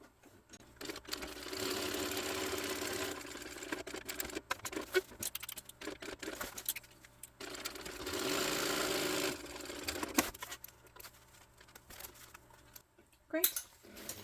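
A sewing machine top stitches a Rachel tote bag in two long runs of rapid, close stitching, with quieter pauses and handling noises between them.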